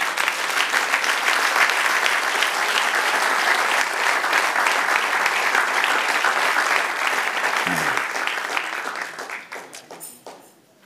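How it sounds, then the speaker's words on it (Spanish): A church congregation claps loudly and steadily for about nine seconds, then the applause thins out and fades, leaving a few scattered claps at the end. "Dale un aplauso al Señor."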